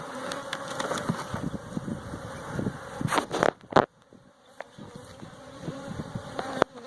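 A dense, steady hum of many buzzing Buckfast honey bees fills the air up close from an opened 20-frame hive, with a few sharp clicks and knocks over it.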